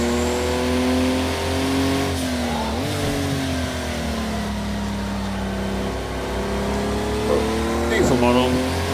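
Porsche car engine revving in the Project Cars 2 racing game, a steady mid-pitched drone that dips and climbs through gear changes, fairly tame and continuous under someone talking.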